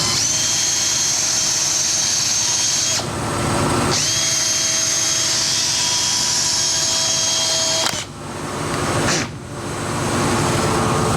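A power drill bores out holes on the frame of a 1974 Honda CB350F motorcycle, a loud close whine that runs steadily, stops briefly around a few seconds in, then resumes with short pauses.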